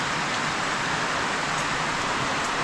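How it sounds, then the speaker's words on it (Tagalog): Heavy rain pouring down during a typhoon, a steady, hissing downpour that is broadband and unbroken, moderately loud and close, with no speech. "Lakas na ulan mga idol."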